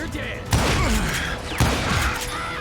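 Rapid gunfire in the game Call of Juarez: Gunslinger crackles in two bursts with booming impacts and whooshing effects, dense and loud throughout the short span.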